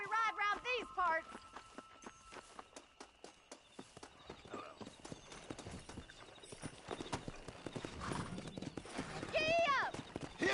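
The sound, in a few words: horse riding hoofbeats in video game Red Dead Redemption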